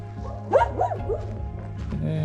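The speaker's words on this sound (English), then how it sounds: "And a few dogs as well." A few dogs in a small Andean town yelp and bark in short, rising calls at moderate distance over a steady low engine-like hum, with a voice audible in the background.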